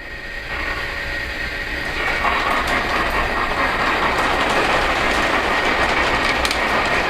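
A Pere Marquette model locomotive runs along its layout track with a continuous rapid clickety-clack of wheels and mechanism that swells a little louder after the first couple of seconds, close by and with no talking.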